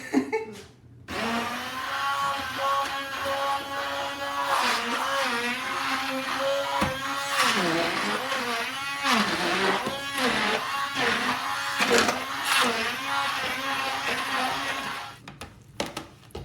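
A high-powered blender on turbo speed whirs loudly and steadily through a thick raw vegan chocolate torte mixture, its pitch wavering and straining as the dense filling churns, then cutting off near the end.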